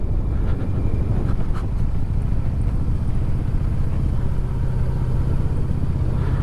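A Yamaha Vmax motorcycle engine rumbles steadily while riding on a road and downshifting gears, with heavy wind buffeting the microphone throughout.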